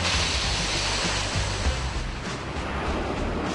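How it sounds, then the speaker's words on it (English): Machinery in a dried-pasta factory fills the space with a loud, constant broadband roar, steady and unbroken throughout with no pauses. "This is a pasta factory, and all these machines mean it's very noisy."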